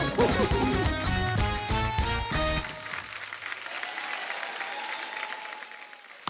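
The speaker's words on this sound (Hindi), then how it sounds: "जोरदार तालियां हो जाए।" A studio audience on a comedy talk show breaks into applause as loud, beat-driven music cuts off, leaving a sustained spread of clapping that carries on alone and gradually thins.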